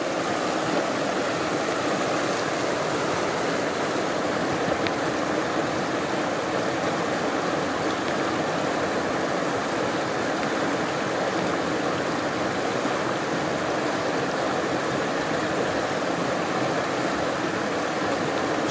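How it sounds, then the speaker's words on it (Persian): Rushing river water in a Lorestan village in spring, a dense, constant roar of flowing water heard up close and unbroken throughout. "با تمام وجود به صدای آب گوش کنید"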